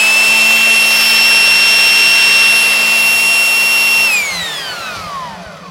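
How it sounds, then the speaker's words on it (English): A GE Elec-Trak electric chainsaw motor running with no chain fitted gives a loud, steady high-pitched whine, then powers down with a falling pitch as it spins to a stop. "Elec-Trak chainsaw."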